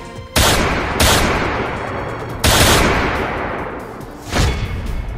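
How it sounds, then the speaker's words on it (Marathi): Four loud, sharp gunshot bangs ring out at uneven intervals at a stopped auto-rickshaw in Pune, each followed by a long echoing decay, no voices. "4 राऊंड फायरिंग।"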